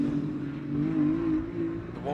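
Ferrari Challenge race car exiting the last corner at COTA during qualifying, a sustained engine tone that wavers slightly in pitch as it holds on, with a commentator's voice underneath.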